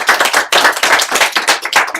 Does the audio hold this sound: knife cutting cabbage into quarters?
no